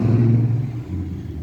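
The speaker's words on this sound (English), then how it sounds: "that truck is really loud" A loud truck rolls past close by, a heavy low engine rumble that is strongest at first and then eases slightly as it moves on, heard alone with no talk.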